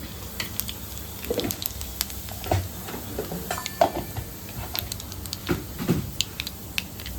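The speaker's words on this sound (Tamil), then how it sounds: "எண்ணெய் காஞ்சிச்சு கடுகு போட்டுக்கலாம் ஃப்ரெண்ட்ஸ்" Mustard seeds and cumin crackling in hot oil for ven pongal tempering: scattered sharp pops and ticks over a faint, low sizzle, close and fairly quiet, with no voices.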